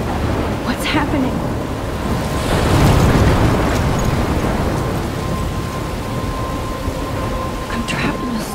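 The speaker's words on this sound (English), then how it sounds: "I'm trapped in a storm?" A thunderstorm in the video game Life Is Strange: heavy, steady rain hisses throughout while a deep thunder rumble swells in the middle, with faint sharper cracks scattered on top.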